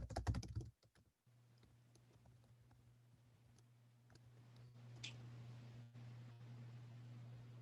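Someone typing an address on a computer keyboard: a quick cluster of close key clicks, then sparse taps over a steady low electrical hum.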